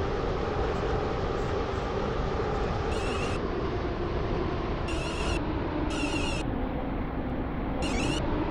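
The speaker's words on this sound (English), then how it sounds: "This train is now approaching Airport Terminal 2." Class 360 electric train running on the terminal loop as it approaches Airport Terminal 2, a steady loud rumble and hum throughout with several short high-pitched squeal or hiss bursts.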